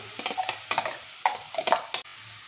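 Chopped tomatoes go into a pan of sautéed onions: a string of near scraping and clattering spoon strokes over a soft sizzle, ending abruptly in quiet.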